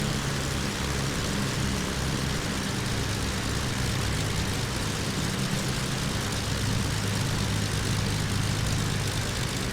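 The twin engines of a Beechcraft Baron 58 in Microsoft Flight Simulator X drone steadily as the throttle is eased back. The propeller hum stays fairly constant and moderately quiet throughout.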